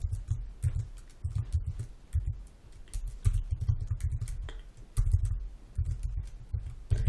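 Close computer keyboard typing while writing a paragraph of HTML body content in a CSS tutorial, with steady irregular key clicks and a dull thud from the desk running throughout.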